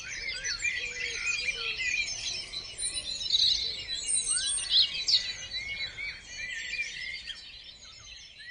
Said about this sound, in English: Here's the glorious noises from producer Fee's garden.